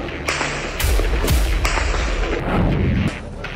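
Several sharp gunshots crack out at irregular intervals at Nur Shams camp in the West Bank, loud and echoing, over a steady background rumble.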